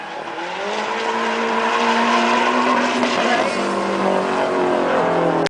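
A drift car on Yokohama tires slides at NOPI Nationals at Atlanta Motor Speedway, its tires squealing in long, wavering, rising tones over a loud, continuous engine roar and skid hiss.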